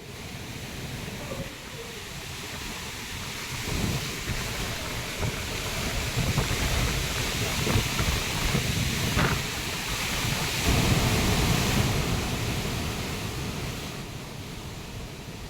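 Manimuthar waterfall in heavy flood, its rushing water a steady loud roaring wash for the whole stretch, blended with wind buffeting on the microphone and no speech.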